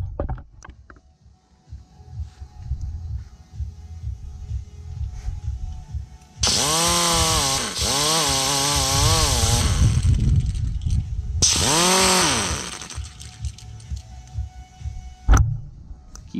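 Power tool bit grinding the aluminum of a corroded boat jet pump while blueprinting it, a loud harsh whine in two long bursts over a workshop hum, ending with a sharp knock.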